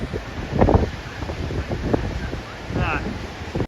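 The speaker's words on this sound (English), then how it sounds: "It was super windy on top of Woolies Rock." Strong wind buffeting the microphone on top of Woolies Rock on the Limestone Coast of South Australia, loud rumbling gusts throughout with a voice speaking briefly.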